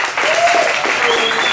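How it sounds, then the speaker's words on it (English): A studio audience breaks into brief, fairly loud applause, a short dense burst of clapping with a few whoops rising over it. "Round of applause for you."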